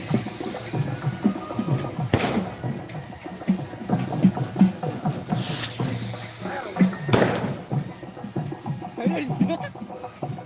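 Firecrackers bursting at a village church festival in Tamil Nadu, two sharp broadband cracks standing out over ongoing chatter and crowd noise, with people talking throughout.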